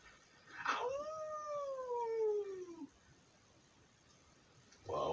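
A voice imitates a wolf howl: one sustained, slowly falling tone lasting about two seconds, clear and fairly close, followed by quiet before another voice starts.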